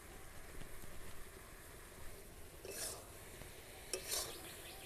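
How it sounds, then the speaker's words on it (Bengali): A spoon stirring cardamom-spiced sugar syrup in a pan over low heat, with soft scraping and gentle sizzle, plus a couple of brief metallic clinks near the end; quiet, with no talking. "ভালো করে এইভাবে হালকা আঁচে নেড়ে নেড়ে জলটাকে শুকিয়ে নিতে হবে।"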